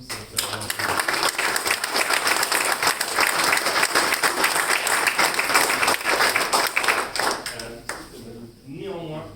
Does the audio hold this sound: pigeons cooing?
no